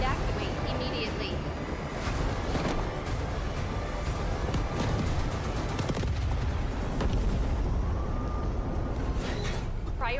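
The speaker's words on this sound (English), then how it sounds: "Hydrogen explosion at reactor 2." Hydrogen explosion at reactor 2 in the video game Delta Force: a loud, sustained roaring rumble with repeated heavy blasts and crackling bursts filling the whole stretch.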